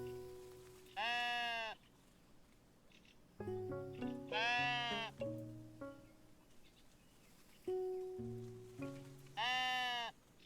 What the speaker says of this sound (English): I found a sheep.